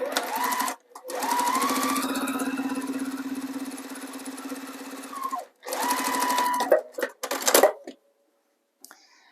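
Sewing machine stitching fabric pieces for a chocolate-colored zipper pouch, a steady close, loud motor whir in two long runs with a brief pause between, ending in a few short bursts before quiet.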